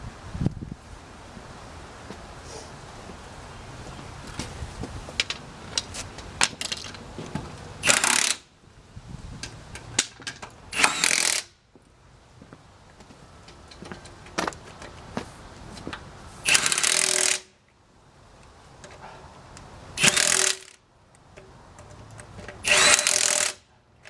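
Hand tools tighten bolts on a 1965 Ford that sat parked for fifty years: bursts of metallic ratcheting and clatter that come and go over a low background, with short loud spells a few seconds apart.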